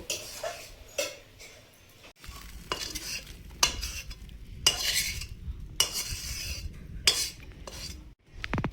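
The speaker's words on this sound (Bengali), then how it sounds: "তরকারিটা প্লেটে ঢেলে নেব।" Prawn and okra curry, cooked outdoors in a jungle, is scraped out of a pan onto a plate in a series of sharp metallic scrapes and clinks separated by short quiet gaps, close and fairly soft.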